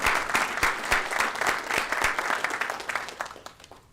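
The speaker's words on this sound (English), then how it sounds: "join me in a round of applause" An audience at a school district board of trustees meeting claps in a steady round of applause, dense and fairly close, fading slightly toward the end.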